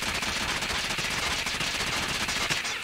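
A QXR gun fires in a video game as a dense, continuous burst of rapid shots lasting nearly three seconds, loud and close, with no speech over it.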